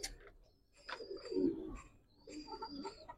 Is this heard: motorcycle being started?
no